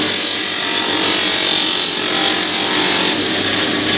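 A buffing wheel spins steadily while polish compound is loaded onto it, producing a loud, continuous broadband whir with a high hiss that holds throughout, alone with no talk.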